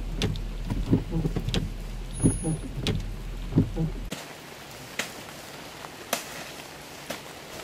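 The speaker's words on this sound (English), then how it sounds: "It's too much rain." Heavy rain falling steadily in a dense wash, with irregular thumps and knocks over it, then a thinner hiss with scattered sharp drips and taps; no one speaks.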